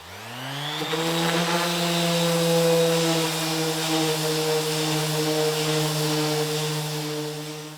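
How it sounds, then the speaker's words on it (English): A power sander works steadily over a wooden surface, smoothing it to 120 grit after scraped-off resin. The motor spins up in the first second, then holds a loud, even hum with a high whine throughout. "So next step is to use the sander."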